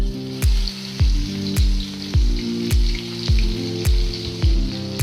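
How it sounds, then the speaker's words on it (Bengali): Fish fries in hot oil that sizzles steadily, with a sharp crackling burst repeating roughly every half-second, loud and close. "তো মাছগুলো আমি ভেজে নিচ্ছি।"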